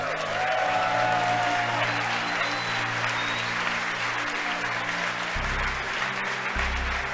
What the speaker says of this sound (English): You can hear the applause behind me as we've gotten past maximum dynamic